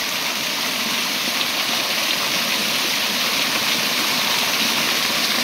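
A constant, loud rush of a waterfall in Odisha, India, dense and unbroken throughout, close by with no voices.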